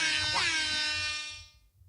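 A single blaring air horn blast, loud and bright, held for over a second before fading out, with nothing else around it.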